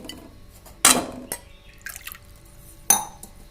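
Water splashes and pours in short bursts into wheat flour for garige, with a couple of sharp splashy hits separated by quieter trickling, close by.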